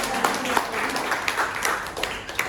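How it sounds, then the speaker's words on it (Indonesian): A room full of people at a class closing ceremony claps for the class leader, brief scattered applause rising and falling for a couple of seconds. "Boleh minta tepuk tangan untuk ketua kelas."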